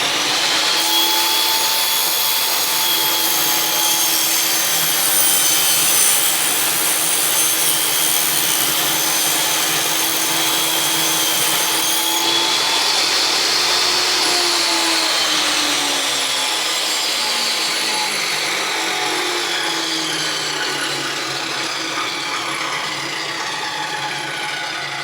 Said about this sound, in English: get your other fence picket and cut your second bevel before you do any adjustments or measurements